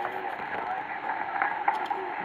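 Homemade amateur radio transceiver with a DDS tuner receiving a signal on a weak antenna, a band-limited, hissy voice transmission crackling from the speaker, moderately quiet and steady.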